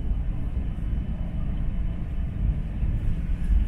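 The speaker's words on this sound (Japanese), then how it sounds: "安全の確認を取りましたため、ただいまこの列車運転を再開しております。" A steady low rumble of a Joetsu Shinkansen MAX Toki bilevel train running at speed, a constant muffled roar heard from inside the carriage, with no voices.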